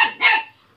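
A single sharp, close dog bark followed by a briefer trailing yelp, heard alone in a home kitchen.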